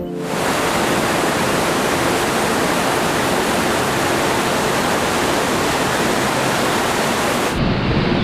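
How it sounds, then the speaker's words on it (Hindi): Waterfall on the Amrit Ganga beside the Anusuya temple in Uttarakhand gives a steady, loud, close roar of rushing water that fills the whole stretch, ending with a brief shift in tone near the end. No voices are heard. "यह एकमात्र ऐसा झरना है जिसकी परिक्रमा की जाती है।"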